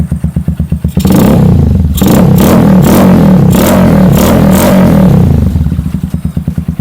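Honda TMX 150 café racer with a racing filter and a stock elbow feeding a bullet pipe, idling with a throbbing putter, then revved hard and held in loud, rough bursts before dropping back to a close idle.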